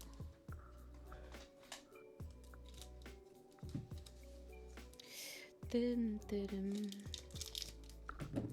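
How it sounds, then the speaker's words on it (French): Scissors snip and crinkle through the foil wrapper of a Pokémon Eevee trading card pack, giving short cuts and rustling bursts close to the mic, with quiet pauses between them. "Je vais prendre des ciseaux."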